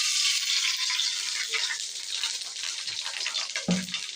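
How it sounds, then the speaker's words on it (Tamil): Cooking oil poured into a pan on a stove to fry ponnanganni greens, giving a steady, close, fairly loud hiss and sizzle throughout, with a brief clunk near the end. "அடுப்பில் எண்ணெய் ஊற்றிக்கிறேன்."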